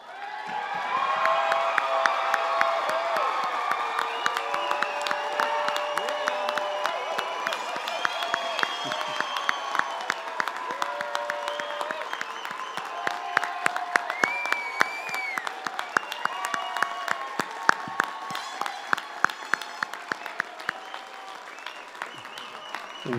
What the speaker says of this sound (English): a final round of applause and recognition of our graduates, not a polite applause, but a standing, stomping, yelling, enthusiastic round of applause.